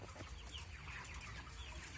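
Broiler chickens on a contract farm, 32 days old, cluck steadily as a flock over a constant low hum of farm noise, with no talking.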